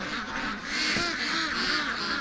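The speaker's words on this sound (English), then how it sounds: "The ducks are all over on this side watching me come out of the bush." Ducks quack near a creek-side pen where small geese linger, a dense, loud flock chorus of overlapping calls with steady outdoor noise under it.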